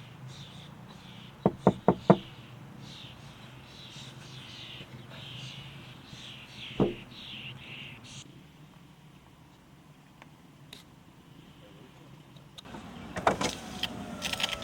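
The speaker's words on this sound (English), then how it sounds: "I was awoken by a loud knock on my window." A rapid series of sharp knocks on a car window, then one more knock a few seconds later, in an otherwise quiet car interior.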